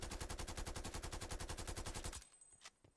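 Krig 6 rifle in Call of Duty Cold War, set up for no recoil, firing a sustained fully automatic burst of rapid evenly spaced loud shots for about two seconds, then stopping abruptly, with a couple of faint clicks and a small thud in the quiet after.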